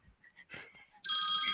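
After a few faint rustles, an electronic phone ringtone starts abruptly: a loud, steady, bright electronic tone close by.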